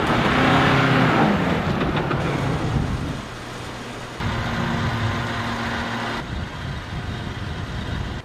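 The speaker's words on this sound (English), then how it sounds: "We're gonna have to winch this bit, it's just too slippery, the car's just slipping." A Jeep engine revs hard on a steep, slippery muddy track in the Victorian High Country, tyres spinning and slipping for grip; loud and close at first, then settling into a steady rumble with shifts in pitch.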